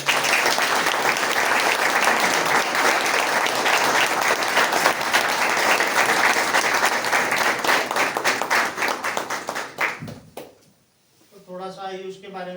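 An audience at a rehab centre sharing session in Dehradun, celebrating a first recovery birthday, claps loudly and continuously for about ten seconds before it fades and a voice begins speaking.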